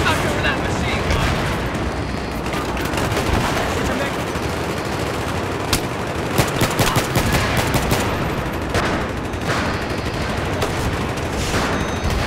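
Sustained machine gun fire in Battlefield 3, dense overlapping bursts and explosions filling the whole stretch with a loud, continuous battle din.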